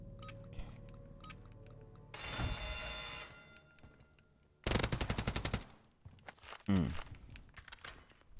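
Gunfire from a gun in the Warzone 3 video game comes in short automatic bursts separated by quiet gaps, with a rapid rattling volley near the middle and another burst near the end.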